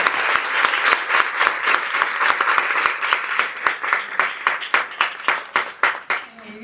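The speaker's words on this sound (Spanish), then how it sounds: "Así que un último aplauso" Applause from an audience at a feminist discussion event, loud and close, settling into rhythmic, spaced claps that fade out with a voice emerging at the end.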